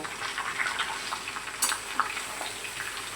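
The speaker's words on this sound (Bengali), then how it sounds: "ভালো করে তেলের সঙ্গে নাড়িয়ে মিশিয়ে দেব" Pieces of ash gourd are stirred through hot oil in a pan, with a continuous frying sizzle broken by light scraping clicks of the spoon, close and steady.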